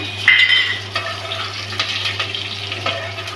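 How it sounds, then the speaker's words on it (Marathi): Chopped garlic and green chillies sautéing in a pan, a close, steady sizzle with scraping and clinking stirring strokes over a low constant hum, no talking. "चांगलं परतून घ्यायचंय। मस्तपैकी असं परतायचंय।"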